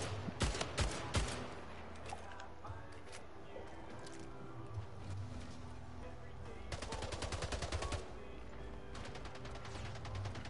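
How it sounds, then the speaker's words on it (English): Rapid automatic assault rifle bursts crackle in the SplitGate video game, with a dense opening burst followed by longer sustained volleys after a pause. The shots sound close and punchy, and a player talks between them. "I hate aiming in with the assault rifle. It's kind of hard to control it."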